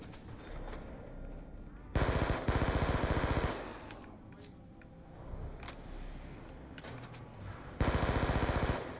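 Automatic gunfire from Call of Duty Black Ops 2's zombie mode, Mob of the Dead, arrives in two loud sustained bursts of rapid machine-gun fire, one early and one near the end, with quieter game noise between them.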